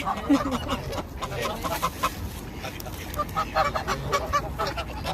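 Busy poultry yard with ducks and other fowl quacking, honking and clucking in overlapping bursts, mid-distance, with faint voices mixed in.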